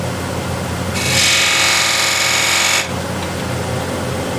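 A wood lathe with a turning tool shaping a bead, a loud steady high whirring scrape for about two seconds over a constant motor hum that continues before and after.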